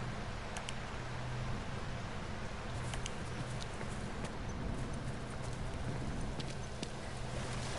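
Horse hooves clip-clop steadily in The Last of Us video game, a continuous run of hoofbeats over a dense rustling background with a faint low hum.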